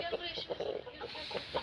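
Soft, quiet clucks from a rooster come in short bursts, faint and close, with low background noise.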